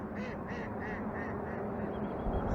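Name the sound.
ducks quacking at a pond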